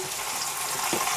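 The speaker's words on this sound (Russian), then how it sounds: "Мясо поджарила, поставила жарить." Meat frying in a pan at home, a steady broadband sizzle and crackle filling the short stretch with no talk over it.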